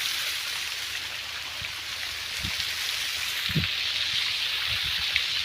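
Steady rushing water pours through a pipe fed by a solar-powered pump motor in a field, a continuous broadband hiss with a few low thumps, alone and without talk.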